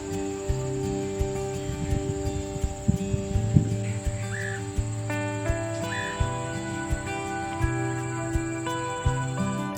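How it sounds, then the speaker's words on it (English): Crickets chirp steadily outdoors in a high continuous trill, over a low humming drone with soft irregular thumps and faint birdsong. "those crickets, those birds, all the extra outdoor sounds that we often take for granted"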